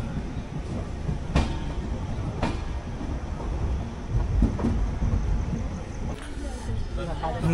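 A passenger train from Kolkata to New Jalpaiguri rumbles along with continuous low rolling noise and occasional sharp knocks and clatters, heard from inside the carriage.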